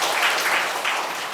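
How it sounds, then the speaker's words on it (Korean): An audience at a party members' meeting applauds briefly. The clapping is a soft, steady wash from a crowd at a distance, with no voices over it. "박수 한번 보내주세요"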